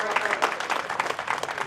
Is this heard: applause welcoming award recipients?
yes